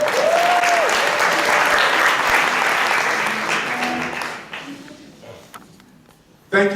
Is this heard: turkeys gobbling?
no